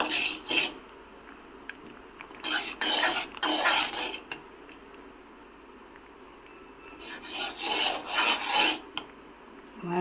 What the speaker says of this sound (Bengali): সরষে বাটাটা ভালো করে আচারের সাথে মিশিয়ে নেব।